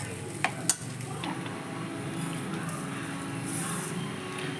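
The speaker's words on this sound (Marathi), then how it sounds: "आणि एक छान असं 1-2 मिनिटं असं आपण हे परतून घेऊया." Sheera being stirred and sautéed with sugar in a pan for a Ganpati prasad offering, a steady close scraping and soft sizzle with two sharp utensil clinks near the start.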